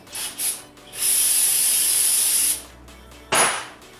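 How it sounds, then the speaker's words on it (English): Brake cleaner sprayed from an aerosol can during a rear coilover install on a 2000–2005 Toyota Celica GT-S, two short bursts, then a long loud hiss and one final burst. "I'm gonna put a little bit of brake clean on it real quick."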